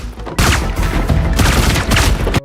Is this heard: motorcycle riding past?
no